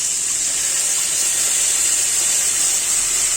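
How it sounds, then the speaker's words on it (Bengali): Blended bottle gourd peel with a little vinegar hits koi fish frying in hot oil with turmeric and salt, giving a loud, steady, close hiss of sizzling with no speech. "আমি যে ব্লেন্ডার করা এক কাপ লাউর খোসা দিয়ে দিচ্ছি"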